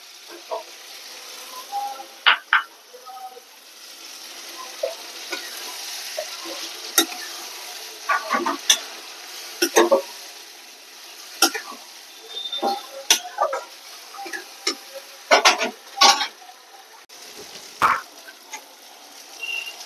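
Prawns and pointed gourd sautéing with cashew-poppy paste and green chillies, a soft continuous sizzle broken by frequent sharp spatula scrapes and stirring clicks against the pan, close and irregular.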